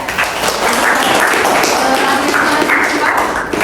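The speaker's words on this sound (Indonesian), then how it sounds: "berikan aplaus ya" A lecture audience applauds after a teaching session, steady dense clapping filling the whole stretch at close range with no voices over it.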